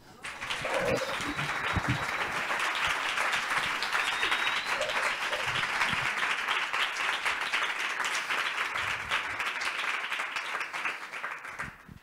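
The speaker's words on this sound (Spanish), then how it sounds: "también quiero escuchar este aplauso" An audience at a cultural talk gives a guest a welcoming round of applause, steady, full clapping close by that holds for about twelve seconds before tapering off.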